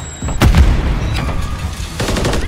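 Grenade explosion in Modern Warfare 3 multiplayer, one loud booming blast near the start followed by rumbling gunfire and battle noise, with a second burst of fire toward the end.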